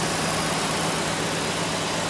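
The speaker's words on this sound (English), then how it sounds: "we have the engine running on the stand" A Mazda FC rotary engine with MegaSquirt engine management runs at about 1,000 RPM on a test stand, a loud, steady, buzzy drone with a slightly uneven idle and no talking.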